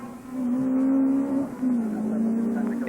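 A Peugeot Formula Rally R1 car at the 2001 Rally of Wirral accelerating hard out of a corner, its engine note climbing, briefly dropping on a gear change, then pulling again, loud and nearby.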